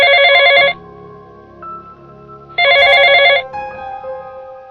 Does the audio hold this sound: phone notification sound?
yes